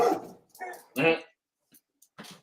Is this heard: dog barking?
yes